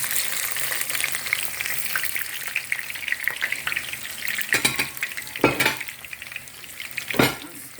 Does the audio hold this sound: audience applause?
no